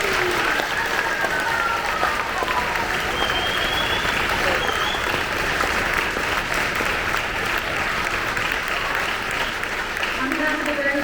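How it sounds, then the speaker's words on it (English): A school concert audience gives student performers a final round of applause, loud sustained clapping and some cheering close by, with a few whistles and shouts rising over the crowd throughout. "Let's please give one final round of applause for all of our student performers."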